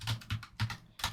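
Keys clatter on a computer keyboard in four quick, crisp taps spaced irregularly, close and clear with no talking.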